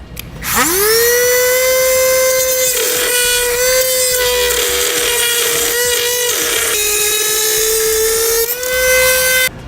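A power tool trims plastic tabs off the back of a 2015 Ford Fiesta bumper fascia, a loud, sustained high-pitched whine that spins up quickly and holds steady with slight dips as it bites the plastic.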